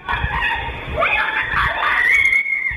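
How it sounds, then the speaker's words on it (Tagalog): A woman's shrill, strained scream, lasting over 30 seconds, rings out over muffled low thumps and commotion, recorded at night by a CCTV camera in Naga, sounding tinny and distant. "may maririnig na sigaw ng babae"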